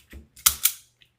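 Quick snips trimming the ends of deco mesh on a flower wreath: two or three sharp, close clicks in quick succession, with nobody talking.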